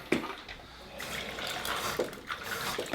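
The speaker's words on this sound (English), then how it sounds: "Fill it up with a bit of water." Water poured into a glass holding coffee and ice, a soft close trickle and splash lasting a few seconds with faint clinks, no voices.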